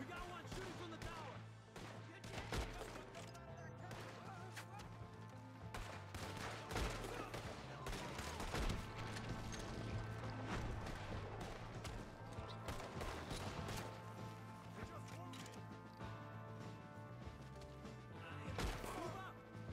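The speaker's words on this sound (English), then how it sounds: "We got one shooting from the tower!" Dense gunfire fills a battle in the Red Dead Redemption 2 video game: rapid overlapping shots, bursts and impacts crackle continuously and loudly, with game characters shouting over the fighting.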